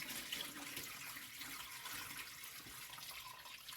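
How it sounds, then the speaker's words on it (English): Homemade pineapple vinegar pours steadily through a fine mesh strainer, a continuous close liquid splash and trickle with no talking. "Pour it in a fine mesh strainer."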